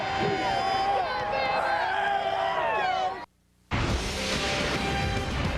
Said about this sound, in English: Good-sized crowd on hand in Shreveport for the Mainstay Independence Bowl.